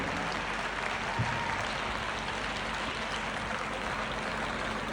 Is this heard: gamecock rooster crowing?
no